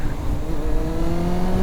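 A Kawasaki ZX-9R motorcycle engine with a slipping clutch drones at steady high revs, its pitch creeping slowly upward without surging, loud and close throughout.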